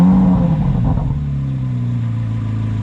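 A Chevrolet Corvette C8 Z06 engine revs hard, the pitch climbing and then dropping as it shifts and settles into a loud, close, steady drone, with no voices.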